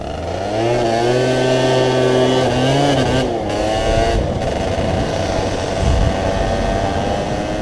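An MBK Spirit scooter fitted with a Bidalot exhaust revs loudly and close up, the engine pitch climbing and holding in a sustained whine before settling into a rough, raspy idle, with no talk.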